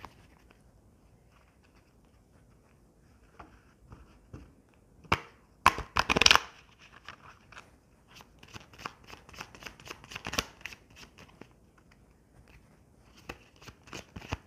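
Tarot cards being shuffled and handled, giving soft papery riffles and taps that build into a louder burst of quick flutters midway, followed by lighter scattered card sounds.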